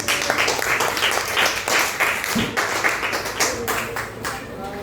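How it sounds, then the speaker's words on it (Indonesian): A classroom audience applauds a student group after their presentation, steady dense clapping filling the whole stretch at moderate loudness, with voices talking over it. "tepuk tangan untuk kelompok tiga"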